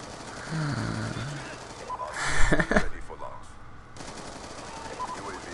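Automatic gunfire bursts from a shooting video game, a dense rattling volley in the middle over quieter game sounds, with a voice talking at times.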